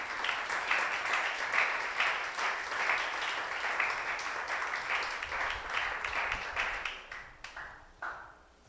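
A church congregation applauds with dense, sustained clapping, some voices rising within it, before it tapers off near the end.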